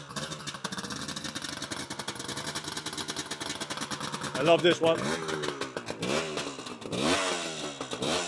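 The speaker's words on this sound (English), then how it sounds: "And then this beautiful Suzuki GT380 1972 with the drum brake. And the sound is immediately different." A 1972 Suzuki GT380 motorcycle engine runs steadily nearby with a buzzy, uneven two-stroke note and some rising revs, while someone talks over it.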